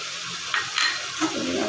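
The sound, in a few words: adding poppy seed and mustard paste to frying fish curry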